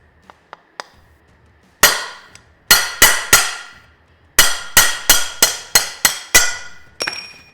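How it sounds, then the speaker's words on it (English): A hammer whacks studs out of a Willys Jeep CJ3B part: a few light taps, then about a dozen loud, sharp metallic strikes in uneven bursts, each ringing briefly, with no talking. "give it a good pressure down and give it a good whack. And you pound right through."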